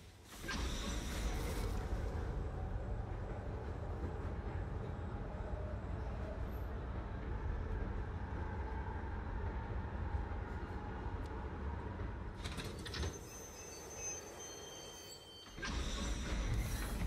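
Steady rumbling ride aboard a train in the puzzle game The Pedestrian, a continuous low rolling drone with clatter that drops out briefly near the end before resuming.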